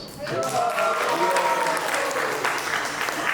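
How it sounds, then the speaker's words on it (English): An audience at a Brahman initiation ceremony applauds a newly initiated devotee: steady, full clapping from a crowd across the whole stretch, with faint voices mixed in. "Nikunja Mandira, big round of applause."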